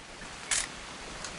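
A single crisp video-game camera shutter click snaps once against a quiet background, followed later by a faint tick.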